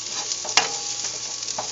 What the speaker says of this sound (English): I'm just going to keep on stirring it